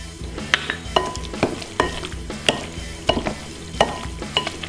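A spoon stirs salt and pepper into a thick spinach artichoke dip made with sour cream, giving close, wet squelching scrapes in an uneven rhythm, with no talking.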